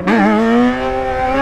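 A Yamaha XJ6 motorcycle shifted into second gear pulls hard, its engine note rising loud and close in one strong, steady surge.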